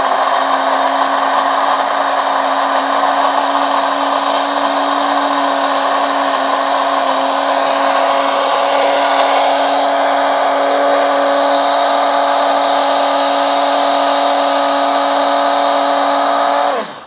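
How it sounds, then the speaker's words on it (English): A KitchenAid blade coffee grinder grinds coffee beans in one loud, continuous, high whirring drone up close. It runs steadily for about seventeen seconds, then cuts off abruptly. "let's start the stopwatch and let's grind"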